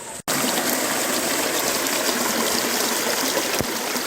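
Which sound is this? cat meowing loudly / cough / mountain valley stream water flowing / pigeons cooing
mountain valley stream water flowing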